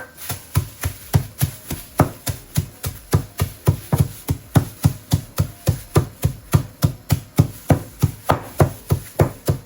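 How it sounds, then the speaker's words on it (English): Walnuts being coarsely ground by hand for a rhubarb and apple crumble give a fast, even series of close, dull thuds, roughly three per second, running steadily for nearly ten seconds. "So I'm just going to coarsely grind some walnuts."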